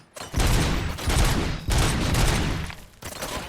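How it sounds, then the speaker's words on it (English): Gunfire in the RoboCop Rogue City video game, loud sustained bursts of rapid shots in two long volleys with a short break between them, close and with no voices. "Gunshots? What's going on?"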